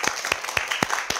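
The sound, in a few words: applause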